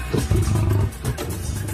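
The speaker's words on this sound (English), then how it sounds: "And the massive American lion." Deep, rumbling roar of an American lion from a prehistoric-predator documentary, a loud guttural growl rising and falling over about a second, then a shorter grunt, with no talk over it.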